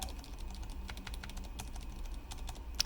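Keyboard enter key fitted with a magnetically-stabilized stabilizer, pressed repeatedly in a quick irregular run of soft, muted clicks, close up with no voices.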